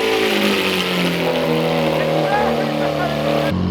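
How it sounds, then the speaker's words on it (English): A Lamborghini Aventador V12 revs loud and close, its rising howl climbing in pitch across the clip before cutting off abruptly near the end. "always wear your ear protection. It's an Aventador, it's a V12."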